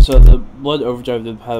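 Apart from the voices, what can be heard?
No everyday noises stand out.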